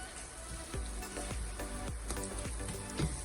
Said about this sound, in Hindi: इसको अच्छे से चलाते रहें, स्किप ना करें, अच्छे से चलाते रहें।